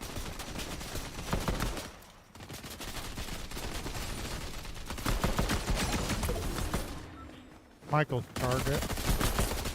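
Gunfire in an online shooter video game: dense, sustained bursts of automatic shots run almost continuously, with a brief lull and a sharp close blast near the end, while a voice talks over it.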